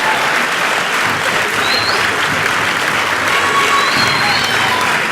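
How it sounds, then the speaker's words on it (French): A large audience at an evening awards ceremony in Soustons applauds steadily and loudly, dense clapping filling the whole stretch with a few faint voices and whistles mixed in. "Je vais l'applaudir bien fort."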